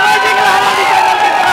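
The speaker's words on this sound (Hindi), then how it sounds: "तालियां अपार भीड़ में बज रही है" A dense crowd roars and cheers at a street food stall after a winner finishes a one-minute plate of chhole bhature in an eating challenge; the noisy hubbub stays loud and steady throughout, with no single voice standing out.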